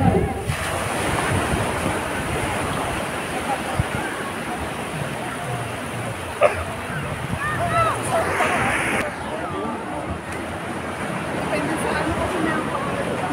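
Cold sea wind buffets a microphone on a beach at sunset, rumbling gusts over the wash of surf, with people's voices and a few brief sounds in the background.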